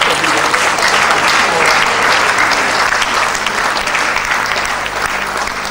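Conference audience at a midwifery gathering in Nigeria claps loudly and continuously for several seconds, a dense wash of hands tapering slightly near the end.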